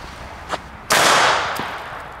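A sharp bang from a Dutch butterfly-type firecracker bursts out loud and close, followed by a crackling, fizzing decay, with a fainter pop just before it.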